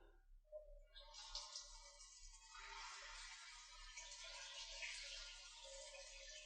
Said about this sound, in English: He got in the shower and turned on the hot water.